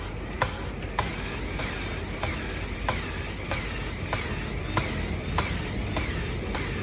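An engine valve is worked back and forth against its seat with valve grinding compound, giving a steady series of sharp scraping ticks roughly every half second over a constant low mechanical hum.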